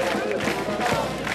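Thousands of Eskişehirspor football fans chant together with a marching band, a dense, loud crowd roar with rhythmic pulses throughout the short stretch.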